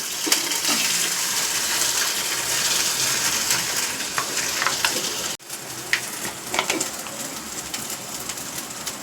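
Boiled potato pieces fry in a pan for a homemade dosa filling: a steady, close sizzling hiss with occasional light scraping from stirring and a brief break partway through.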